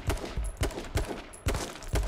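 Rapid bursts of video game gunfire, several sharp volleys in quick succession with brief gaps, loud and close with no talking over them.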